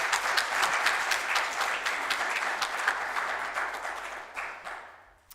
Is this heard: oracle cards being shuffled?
no